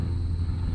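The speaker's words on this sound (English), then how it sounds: "sorry about the plane" A plane passing overhead produces a steady low rumble that fills the moment at an even level, heard outdoors on a sheep farm with no talking.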